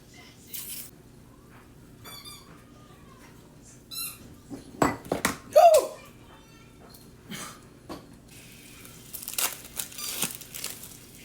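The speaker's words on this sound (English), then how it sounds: "Open up your croissants." Croissant dough packaging being opened in a home kitchen where sausage fries in melted butter, a few crinkling plastic rustles and scattered clicks, then a sharp burst of tearing and crumpling near the middle, with more rustling toward the end.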